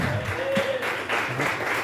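A church congregation claps during a sermon, a steady wash of applause that swells and fades in waves, with a brief voice or tone rising within it.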